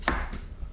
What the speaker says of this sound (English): I'm going to cut a whole onion.